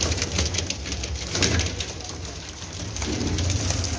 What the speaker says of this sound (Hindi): गोल्डन कबूतर सियालकोटियाँ चु क्रॉस जरूर है